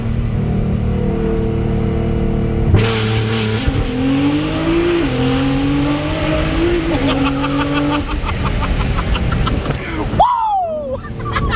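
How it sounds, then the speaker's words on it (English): A 900-horsepower Nissan GT-R NISMO does a rolling launch, heard from inside the car: a loud engine roar climbs steadily in pitch through the gears and holds a dense, harsh drone, then the note drops sharply near the end. "There's a rolling launch here."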